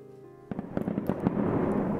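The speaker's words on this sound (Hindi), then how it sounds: "कुछ लोग पटाखे छुड़ा रहे थे" Diwali firecrackers and fireworks set off, a quick run of sharp pops and bangs building into a dense crackling roar after a brief quiet start.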